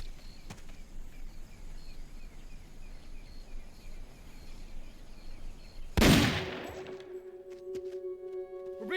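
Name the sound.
gunfire in the video game Metal Gear Solid: Peace Walker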